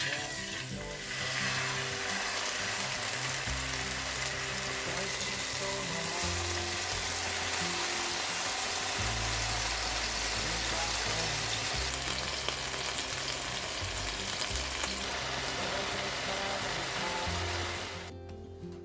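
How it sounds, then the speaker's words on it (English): Beef steaks frying in very hot rapeseed or peanut oil in a pan, a loud, dense, continuous sizzle with crackling that holds steady, then cuts off at the end. "in a very hot pan and fry the steaks to the desired degree of doneness"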